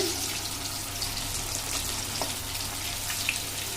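Food frying in hot oil gives off a steady, faint sizzle and crackle throughout, with small pops scattered over the continuous hiss and no voices.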